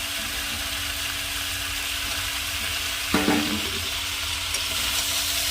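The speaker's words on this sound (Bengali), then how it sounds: "এবার ভালো করে নেড়ে নেব" Pumpkin and stalk vegetable curry sizzles steadily in a pan while a utensil stirs it, giving one brief clattering scrape partway through over the constant frying hiss.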